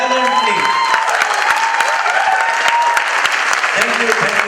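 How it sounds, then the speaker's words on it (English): A lecture audience at a literature and cinema event applauds vigorously: dense, loud, sustained clapping filling the whole stretch, with a few voices mixed into the crowd noise. "So I want you to applaud violently."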